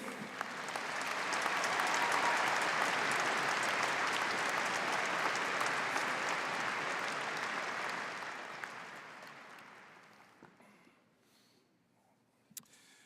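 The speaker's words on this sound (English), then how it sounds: "Audience, please give a round of applause to Sir Peter McKeith." An audience at a university commencement ceremony gives a dense, sustained round of applause. It swells, holds for several seconds, then fades away to near silence.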